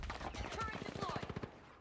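A deployed turret in The Finals fires a rapid burst of roughly a dozen quick shots in a fast regular rhythm, fairly faint and tapering off at the end.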